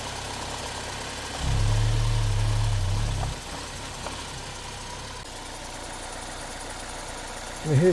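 A Vauxhall car engine with fault code P0171 idles roughly with a low, steady hum that swells louder for a couple of seconds, then settles back to a quieter rumble.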